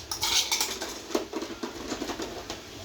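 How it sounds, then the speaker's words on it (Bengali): A spoon stirs and scrapes in a cooking pot, giving rapid metallic clinks and light tapping that carry on steadily at close range with no talk. "চামচটা নিয়ে নি, এখন লাড়ে শুরু করি।"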